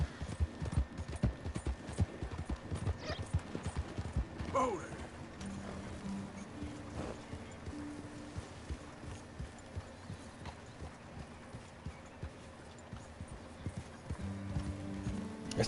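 Horse hooves galloping in the video game Red Dead Redemption, a fast, steady clip-clop that is loud and close at first, then settles into lighter, continuing footfalls while sustained game tones sound in the background.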